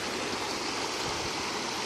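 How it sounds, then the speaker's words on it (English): Creek water running and tumbling over rocks and stones, a dense, steady rushing that fills the whole short stretch, close and loud with no voices. "It's a place for the water to run and trip over all the rocks and the stones."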